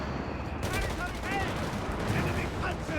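Gunfire crackles in a Company of Heroes 3 match between Afrika Korps and US forces, repeated shots rattling under a steady background of battle noise while a commentator's voice runs over it.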